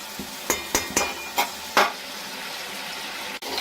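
Potatoes frying with turmeric in a pan are stirred, giving about six sharp scraping clacks of a utensil against the pan over a soft sizzle, followed by quiet.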